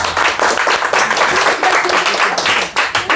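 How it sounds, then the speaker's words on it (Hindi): Students clapping loudly in a classroom, a dense, close burst of hand claps filling the room for a few seconds. "जोर से ताली बजाओ।"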